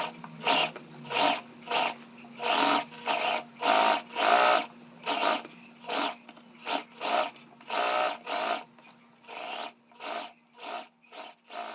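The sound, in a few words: sewing machine stitching the seam of a dress shirt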